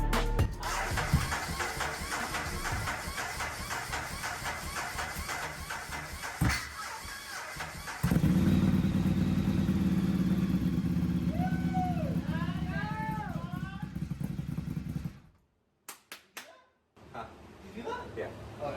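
Ducati Monster 1100 Evo motorcycle being started after a rebuild: loud mechanical clatter and cranking, then the engine catches and runs with a steady throbbing idle before it cuts off, leaving brief quieter knocks.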